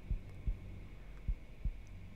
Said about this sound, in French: les battements de cœur disent s'il est prêt ou pas